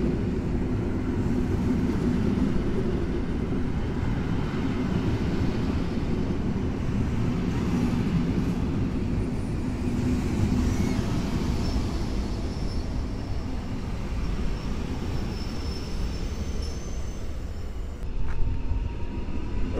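An EN71 electric multiple unit runs through Warszawa Zachodnia station after dark toward Grodzisk Mazowiecki, a sustained low rumble of wheels and motors that stays loud and even, with faint squeals near the end.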